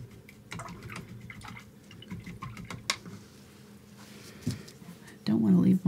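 An acrylic paintbrush is rinsed in a cup of water during a beginner painting session, making light splashing, dripping and clinking sounds at close range, with a louder slosh near the end.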